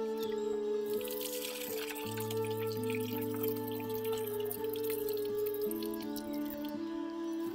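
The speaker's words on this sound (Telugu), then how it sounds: "కందిపప్పు ఒకసారికి 2 సార్లు శుభ్రంగా కడుక్కోవాలి" Toor dal being rinsed in water, with soft dripping and splashing sloshes throughout over steady tonal background music.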